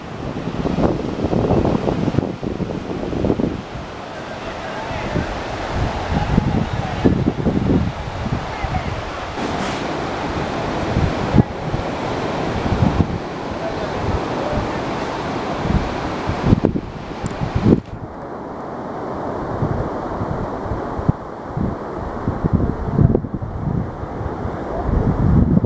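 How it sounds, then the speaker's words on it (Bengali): Strong, cold wind gusts across the microphone at Gopalpur sea beach at night near the lighthouse, with continuous roaring buffeting and surf washing underneath, lasting throughout with steady loudness. "দুর্দান্ত হাওয়া, ওয়েদার খুবই ঠান্ডা"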